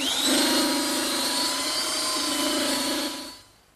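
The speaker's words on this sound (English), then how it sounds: "I like to use a slightly smaller belt sander to do these edges because it's easier to" A small belt sander runs along the edges of a wooden table, making a loud, steady whining drone close by that holds evenly and then winds down at the end, with no talking.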